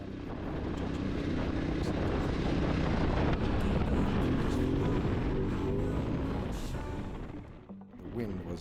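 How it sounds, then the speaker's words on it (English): Heavy, steady wind buffeting roars across the microphone while riding a motorbike through open country in Namibia, loud and continuous for most of the stretch before briefly easing near the end. "The wind was insane, and the wind noise"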